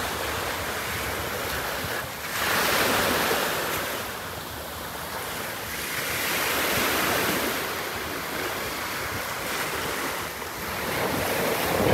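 Ocean waves at high tide on Bolabog Beach, Boracay, a loud continuous roar of surf that swells and eases in slow surges, mixed with heavy wind buffeting the microphone.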